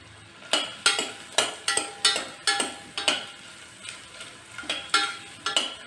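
Finely chopped large onion and a whole head of garlic fry in a pan for palak soup, with rhythmic stirring scrapes of a utensil repeating every half second over a soft, close sizzle.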